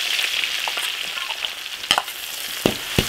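Minced garlic stir-fried in an iron wok, a bright hissing sizzle with a few sharp scrapes and clanks of the spatula, close and steady, with no talk.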